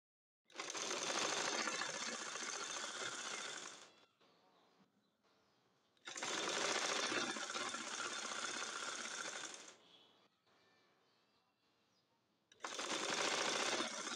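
A sewing machine stitching two-colour fabric for a Naira dress, running in three loud, rapid whirring bursts of several seconds each, separated by quieter pauses with faint handling noise.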